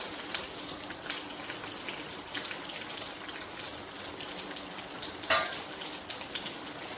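Chopped garlic fries in an oiled pan with a soft, continuous crackling sizzle and scattered tiny pops, fairly quiet, with one sharper clink midway.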